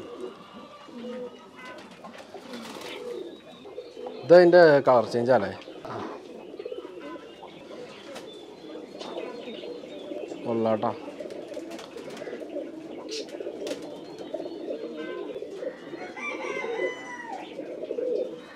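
Pigeons of several breeds cooing on a large mixed farm in Kerala, with rolling coos and a louder close burst, a rooster crowing in the background, and people talking over the birds.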